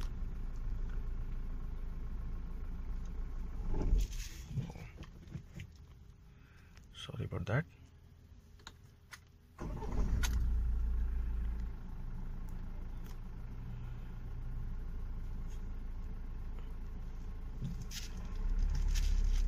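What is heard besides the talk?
2019 Tata Harrier engine idling, AC off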